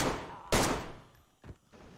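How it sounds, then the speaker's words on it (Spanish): Gunshots in the DayZ video game, two sharp reports with the first loud and close and the second fainter, each with a short decaying tail, and no talk over them. "Dios, ¿cómo se escuchan los tiros?"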